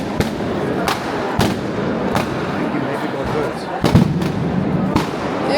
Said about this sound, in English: the sky explodes with fireworks and firecrackers